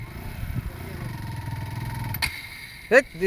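A motorcycle stuck in quicksand, its mid-pitched engine droning and revving unevenly, with a sharp clatter near the end while people talk over it.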